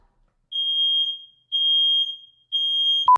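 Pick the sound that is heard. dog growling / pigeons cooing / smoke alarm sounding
smoke alarm sounding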